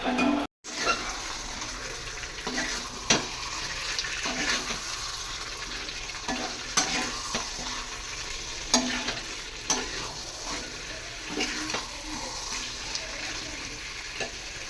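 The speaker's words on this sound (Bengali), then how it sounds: "মাংস কষাচ্ছি, দেখেছো কতখানি মাংস আমার একটুখানি কড়াইতে ধরে গেছে" Mutton being sautéed and stirred in a kadai gives a continuous sizzle, broken by repeated scraping clicks of the spoon against the pan. No one speaks.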